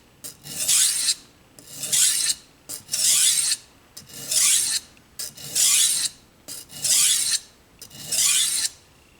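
A knife edge is ground on a 320 grit sharpening stone in seven steady, evenly spaced rasping strokes, close and alone with no talk.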